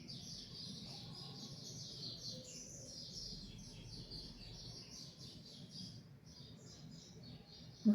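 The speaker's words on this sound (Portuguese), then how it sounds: "não sei se vocês estão ouvindo, mas tem o canto dos pássaros" Birds singing outdoors, faint continuous chirping and twittering at a distance over a low background hum, with no one talking.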